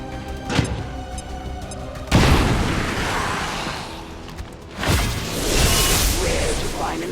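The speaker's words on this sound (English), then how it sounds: "I don't have to worry about hitting or missing if I fire a grenade at you." A grenade fired in a video game explodes in loud booming blasts, a sharp burst around two seconds that rumbles on, then a second heavy blast near five seconds, with game effects and a faint swoosh beforehand.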